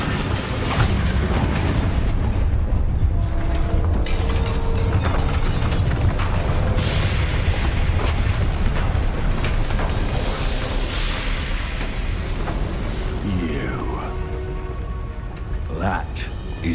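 Bombarda explosion spell in the video game Hogwarts Legacy, a loud blast that trails into a long crackling, rumbling debris wash, with scattered game effects and a voice speaking under the noise.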